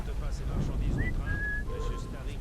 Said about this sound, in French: Ah, un bon petit sifflet.